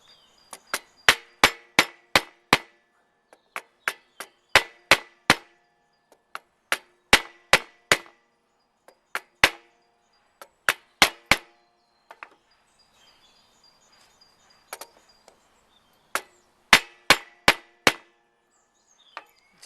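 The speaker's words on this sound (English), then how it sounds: "we're just now tapping the frets in" A hammer taps guitar frets into a fretboard on a small travel guitar, giving crisp, sharp knocks close by in quick clusters of three to five, separated by short pauses.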